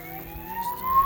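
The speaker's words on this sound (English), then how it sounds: "looks like we've got a siren going over there" An emergency siren wails from far off across the water on the River Thames, a thin steady rising tone that is brief and fairly faint.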